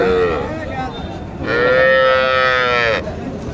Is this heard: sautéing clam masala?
no